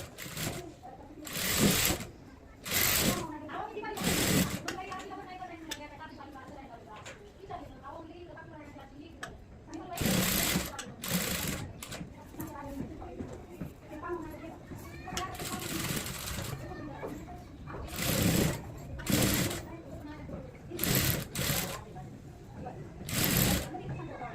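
A sewing machine runs in repeated bursts while topstitching a pressed line along a patch-work blouse neckline for a paithani saree blouse, with some background noise between runs.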